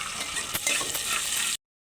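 Onions sizzling and frying with ginger garlic paste for a pumpkin curry, stirred in the pan; a steady close hiss with a few scraping stirs, lasting under two seconds and then cutting off.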